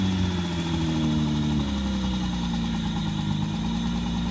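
A motorcycle engine idles steadily after sitting parked for five years, a continuous low rumble with a slight uneven knock, close and loud throughout.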